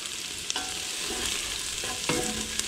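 Garlic and mushrooms sizzle steadily in a hot pan while making spaghetti sauce, a close, even frying hiss broken by a few light stirring scrapes and taps.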